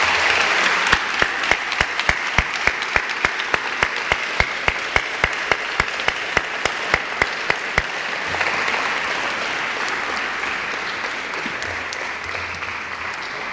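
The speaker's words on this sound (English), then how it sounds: "Let's have one last round of applause for our People's Choice Award winners." Audience at a high school People's Choice Awards ceremony applauding, with sharp rhythmic unison claps for about eight seconds that then loosen into dense, steady general applause.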